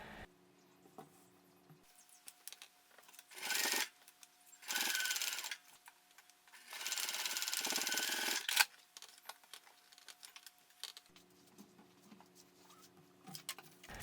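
A sewing machine stitches the ends of backpack straps in three separate bursts of steady, rapid stitching, each a few seconds long, with quiet handling and clicks between runs.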